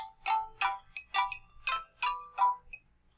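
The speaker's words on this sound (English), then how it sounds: "Sorry for that phone call." A phone ringing with a repeating electronic melodic tone, about seven short bright bursts in a quick rhythm, moderately loud and alone, interrupting a lecture on creation and a worldwide flood.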